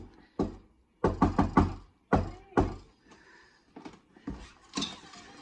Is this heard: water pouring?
no